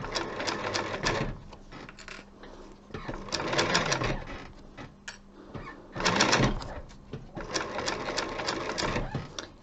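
Sewing machine stitching the base and sides of a leather bag, running in several bursts of fast whirring stitches separated by short pauses, close and steady.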